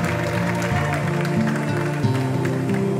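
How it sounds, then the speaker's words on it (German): Crowd applause at a bike biathlon sports event in Sundern-Hagen, a steady patter of clapping running throughout beneath loud, pulsing music with a deep bass line. "trotzdem mal einen riesen Applaus!"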